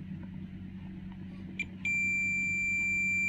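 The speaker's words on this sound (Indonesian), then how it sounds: "Dan untuk multitester saya sudah pasang di range buzzer." A multimeter set to continuity mode gives a sudden steady high beep when its probes touch a fuse in a Sharp air conditioner module, sounding alone over a low background hum after a brief tap.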